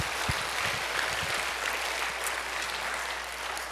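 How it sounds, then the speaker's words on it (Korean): A church congregation claps warmly to encourage its pastors, broad, even applause from a large crowd filling the whole stretch with a steady roar of hands. "우리 목사님들 박수로 한번 격려할까요?"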